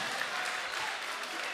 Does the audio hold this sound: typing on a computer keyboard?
no